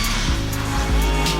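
A custom RC drift car, a Freedom Factory Patroller build with loud exhaust and a supercharger, does rolling burnouts with continuous tire squeal and engine roar, loud and near, without voices.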